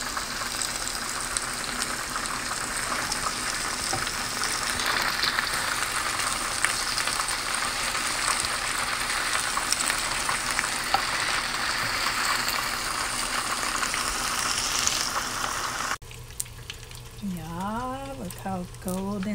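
Cod fillets sear in a pan with plant-based butter and herbs, a dense, steady sizzle that runs loud for most of the stretch before dropping off as a voice speaks near the end.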